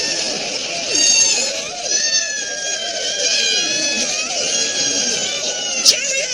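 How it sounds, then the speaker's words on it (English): Elderly people screaming as they topple like dominoes in a comedy scene, a sustained chorus of high, wavering overlapping shrieks and cries lasting several seconds, loud and close. "Geriatric screaming dominoes!"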